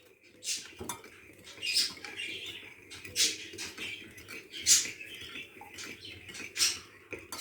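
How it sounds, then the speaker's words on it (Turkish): Waffle batter with oil being stirred in a bowl: a string of scraping, clinking strokes at an uneven rhythm, close and moderately loud, with no talking. "Şöyle güzelce bir karıştırayım"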